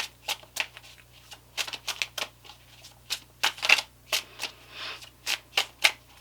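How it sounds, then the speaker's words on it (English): Tarot of Sexual Magic cards are shuffled by hand in a quick series of crisp riffling flicks and slaps, irregular but steady, close up over a faint low hum with no voices. "the cards that I'm shuffling with here are the Tarot of Sexual Magic."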